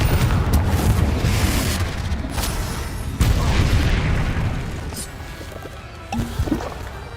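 Confringo spell explosions in the Hogwarts Legacy video game land as deep, rumbling booms, with one sharp loud blast partway through and the low rumble thinning out before a final smaller burst.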